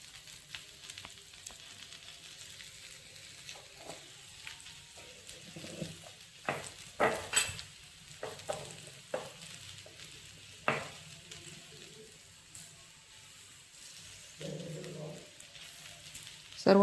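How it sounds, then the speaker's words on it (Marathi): Okra (bhindi) for a crispy masala dish sizzles and fries steadily in a pan, with intermittent louder stirring scrapes and clacks throughout; no talking. "सर्व मिश्रण एकजीव करून घ्यायचे. पाच मिनिटं भेंडी शिजू द्यायची आहे."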